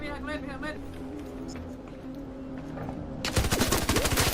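Automatic gunfire erupts in ARC Raiders, a burst of rapid shots starting late and loud after a stretch of game ambience under voices talking.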